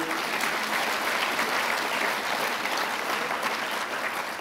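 Large student rally audience applauding Allen Fagin, the leader of the Orthodox Union, a steady, dense wash of clapping from a big crowd that holds at an even level throughout.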